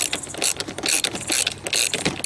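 A ratchet wrench with a 17mm socket loosens a T-bolt on a tonneau truck bed cover, giving loud, close, rapid clicking in repeated bursts with short pauses, and no voices.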